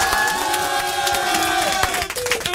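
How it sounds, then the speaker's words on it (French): Radio studio audience cheering and clapping for J Balvin, loud crowd shouts and whoops over scattered claps with a tonal backing underneath. "on applaudit très fort"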